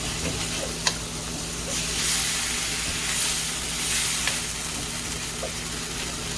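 Ground meat for lumpia filling sizzles steadily in a hot pan, a continuous close hiss with occasional soft stirring clicks and no talking.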